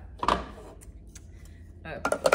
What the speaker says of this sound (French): Insérez le couvercle et le gobelet doseur.